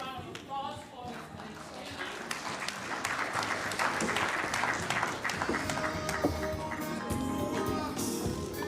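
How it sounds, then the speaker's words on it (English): Applause from the audience at a CEO forum relaunch, a sustained spread of many hands clapping that builds over several seconds, with scattered louder claps and some voices in the room. "Another big round of applause"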